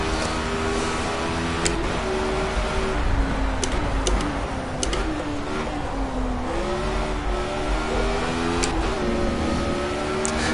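A Formula A race car engine in Project CARS drones loudly and continuously, its pitch sweeping up and down through gear changes and throttle lifts on a hairpin, with faint ticking clicks layered on top and no talking.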